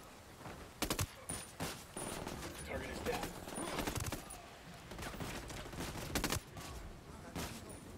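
Gunfire in the Ghost Recon Wildlands video game, repeated loud bursts and single shots in an irregular rhythm over continuous game ambience, with voices talking throughout.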